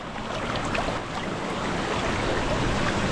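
River water flows steadily in a cold forest river, a broad, continuous rushing wash heard close by.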